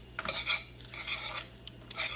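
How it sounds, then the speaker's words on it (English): A whisk scrapes and taps against a bowl while cream cheese is beaten for mac and cheese, a soft quiet rhythm of brushing strokes close by. "And just whisking it and whisking and whisking."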